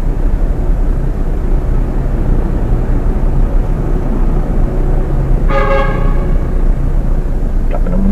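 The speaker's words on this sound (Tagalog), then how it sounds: "Busina doon" On a busy city road in the Philippines at night, a vehicle horn gives one short honk about midway through, rising over loud, steady traffic rumble.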